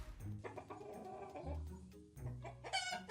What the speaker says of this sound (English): So a hen says cluck, cluck.